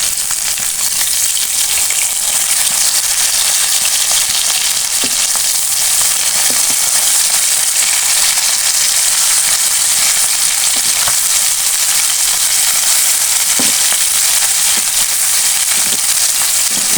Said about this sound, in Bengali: আমার পুকুরের মাছগুলো ভাজছে।